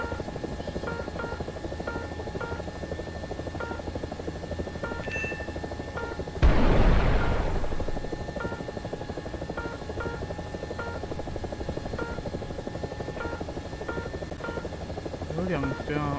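Rotor of a G-LYNX helicopter in the video game War Thunder, a steady rhythmic thumping buzz throughout with a sudden loud whooshing burst midway that fades back into the constant drone.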